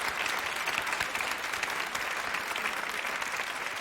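An audience at a gathering honouring a young Quran memorizer with autism bursts into steady, dense applause, many hands clapping continuously from start to finish at moderate distance, with no talking.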